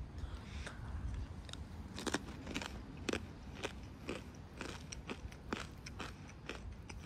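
Close, crisp crunches of a cracker topped with pork fat being bitten and chewed, about a dozen irregular bites and chews over several seconds with no talking.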